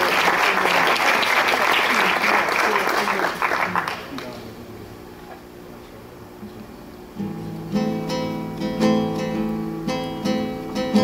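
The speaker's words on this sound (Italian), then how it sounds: "quindi vorrei dedicargli un applauso e un grazie." An audience at a local celebration in Sammichele di Bari applauds loudly for about four seconds. The clapping fades out, and tonal, music-like sounds follow.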